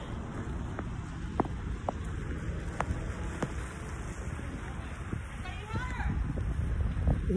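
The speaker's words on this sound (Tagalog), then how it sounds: "Ayan, malakas ang ulan." Steady heavy rain hisses throughout, with scattered sharp drips and knocks close by and a faint voice under the downpour near the end.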